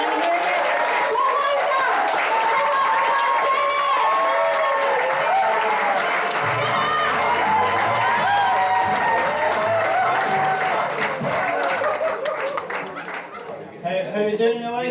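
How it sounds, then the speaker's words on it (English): Comedy club audience in Glasgow applauding and cheering for a comedian, a sustained wash of clapping with whoops and shouts, dense and close, tapering slightly near the end. "Let me hear you start clapping and cheering."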